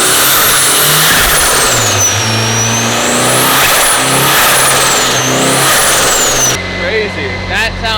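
A rear-wheel-drive Honda Civic with a K-series engine revs hard on a dyno, a loud continuous engine roar with rising and falling pitch sweeps that cuts lower near the end, with voices mixed in.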